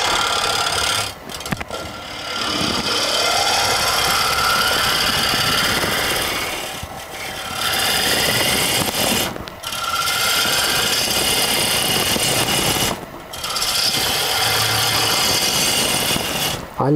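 Power tool grinding into a piece of very dry, dusty beech wood, loud and continuous in long bursts separated by brief pauses around two, seven, nine and thirteen seconds, with a rising whine as each pass starts.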